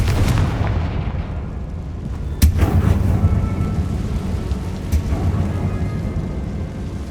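A Confringo blasting spell in the Hogwarts Legacy video game sets off a sharp, booming explosion over a low background rumble, with a second, fainter blast a few seconds later.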